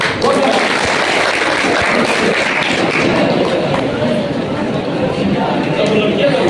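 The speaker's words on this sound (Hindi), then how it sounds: "जोरदार ताली" Sustained, loud applause from a crowd at a school result announcement in Katihar, dense and steady throughout, with chatter mixed in.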